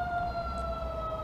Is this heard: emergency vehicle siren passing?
yes